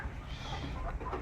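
White layer hens and pullets on a poultry farm cluck softly in a busy, low-level chatter, faint and continuous with no single bird standing out.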